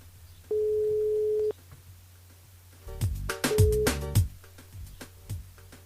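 Telephone line tone on a call to a radio listener during a live morning show: one steady, loud beep lasting about a second, then a short second tone half-buried in clatter and background noise.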